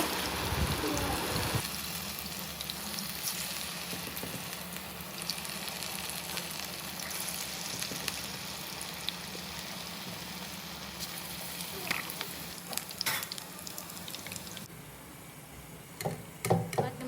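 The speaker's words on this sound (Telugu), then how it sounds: "మంచిగా దోరగా రెడ్ కలర్ వచ్చేలాగా ఫ్రై చేసుకోండి" Black-eyed pea garelu fry in a pan of oil with a dense, constant sizzling bubble that fills the whole clip, plus a few brief clinks near the end where the hiss thins out.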